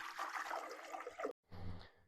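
Water pours into the reservoir of a home sauna pod steamer, a close, bright splashing stream that stops abruptly and then resumes briefly with lower gurgling.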